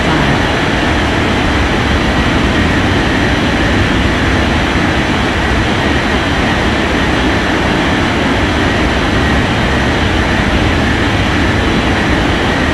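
Airplane engine roar during takeoff in an air traffic control video game, a steady loud broadband rumble that holds unbroken without talk.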